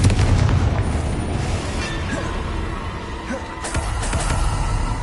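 A fiery blasting spell from the Hogwarts Legacy video game erupts in loud, dense booms and crackling bursts that roll on continuously for several seconds, with a heavy low rumble and repeated sharp hits layered over one another.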